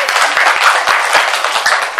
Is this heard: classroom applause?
yes